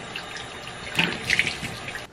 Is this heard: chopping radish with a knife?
no